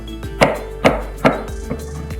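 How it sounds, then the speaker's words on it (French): A knife chops carrots into half-rounds on a cutting board, four crisp evenly spaced strikes with a steady low hum underneath. "Ensuite, nous allons avoir nos carottes et faire attention, pas se couper, on coupe à moitié, puis après ça, on fait des demi-rondelles."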